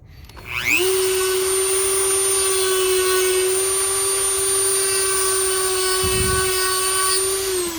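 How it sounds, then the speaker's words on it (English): A high-speed rotary grinder whines steadily as it grinds plastic off a car climate control panel for a Honda CRX conversion, spinning up quickly and then holding a loud, close, even pitch. "This thing does create a lot of plastic flying around, unfortunately, because you are grinding it all off."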